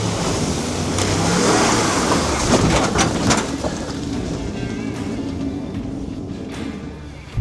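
A Jeep Wrangler 4xe engine roars and revs loudly while climbing off-road, a dense, sustained mechanical rumble that swells early and then eases slightly, with gravel or debris noise and no talk.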